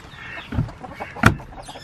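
Young chickens clucking outdoors on a snowy day, a few soft scattered clucks close by with one sharper, louder call near the end.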